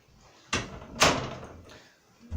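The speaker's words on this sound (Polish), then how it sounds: "Jeszcze zamknę sobie drzwi." A door is shut nearby in a room, with a soft push and then a sharper knock of the latch about half a second later, followed by faint movement.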